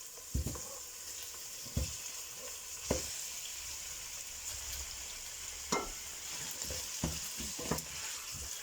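Pork ribs sizzle in a pan for a Spanish stew with chorizo, potatoes and lentils, a quiet steady frying hiss broken by several sharp knocks and scrapes of stirring at irregular intervals.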